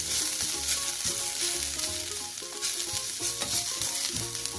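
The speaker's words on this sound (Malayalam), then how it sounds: "എന്നിട്ട് ഇതൊന്ന് മൂക്കുന്ന വരെ ഇങ്ങനെ ഇളക്കി കൊടുക്കാം. നന്നായിട്ട് കണ്ടിന്യൂസ് ആയിട്ട് ഇളക്കണം" Turmeric, coriander and chilli powders fry with onion, ginger and green chilli as they are stirred, a steady dense sizzle close up with faint music beneath.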